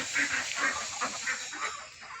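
Ducks being raised on a farm call repeatedly in a steady, honking chatter, several birds close by, with no voices over them.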